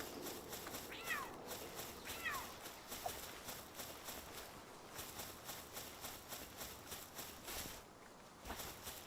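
Short cat meows from a Palworld game session, two or three faint chirpy calls early on over a steady hum of background sound and light clopping footsteps.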